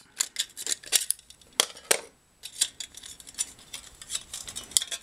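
Scissors snipping an aluminium strip for a homemade ashtray, a quick run of sharp, close metallic cuts with a brief pause midway.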